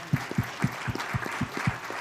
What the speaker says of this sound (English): So first, one round of applause and another one